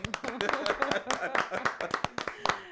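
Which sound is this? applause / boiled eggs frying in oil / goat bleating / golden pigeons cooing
applause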